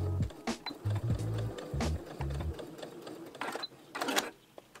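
A sewing machine back-stitches the elastic casing of bias binding on denim-style overalls, giving short bursts of low mechanical whirring that start and stop several times, close up, with brief pauses between runs.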